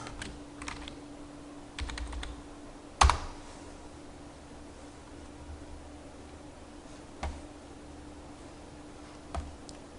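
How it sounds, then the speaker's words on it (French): Quiet, close typing on a computer keyboard as a search is entered in a browser address bar, with soft irregular key taps, a sharper click near the start and a few isolated taps afterward over faint background hiss. "dans la barre d'adresse, nous allons écrire tout simplement télécharger XAMPP"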